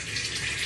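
Tap water runs steadily to fill a bathtub, a dense, even gush close by with no pauses and no voices.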